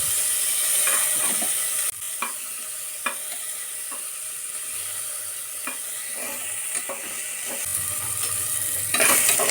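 Chopped tomato frying in a pan for a Bangalore-style bottle gourd mutton dal, a steady loud sizzle broken by repeated spatula stirs and scrapes, with no voices.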